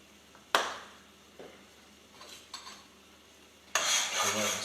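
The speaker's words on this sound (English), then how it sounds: "Stir around a little bit, let you guys see." A spoon scrapes and stirs arroz con gandules sizzling in a pot, a few sharp scraping strokes with quiet gaps and a faint sizzle beneath.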